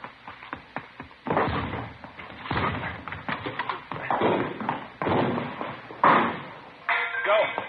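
Heavy thuds strike repeatedly at an uneven pace, like a door being battered, with voices in between and a final loud bang.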